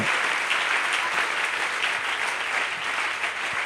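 A church congregation applauding at a 2016 closing service, a steady dense patter of many hands clapping close by, sustained throughout without a break.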